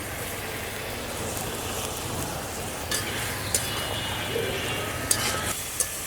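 Dried sea fish sautéing in a pan with chili powder, salt, cumin and garlic paste, a steady close sizzle broken by a few sharp scrapes and clinks of stirring.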